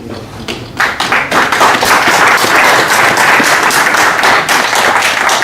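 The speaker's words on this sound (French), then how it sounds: "Merci beaucoup. Applaudissez aussi." Loud, sustained applause from a large crowd after a talk, dense clapping that swells after a quieter first second and holds steady.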